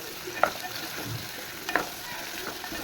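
Ridge gourd pieces frying in a pan for a curry, with a soft steady sizzle and a couple of light scrapes from stirring.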